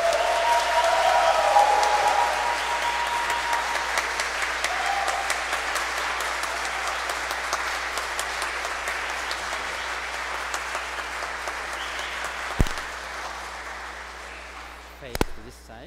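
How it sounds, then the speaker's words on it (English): Wedding guests applaud inside a church after the couple's kiss at a wedding Mass, a steady, fairly distant wash of clapping that slowly thins out, with a couple of sharp knocks near the end. "Big applause, please"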